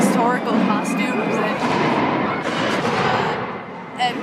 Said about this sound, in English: gunshots, and shooting guns and cannons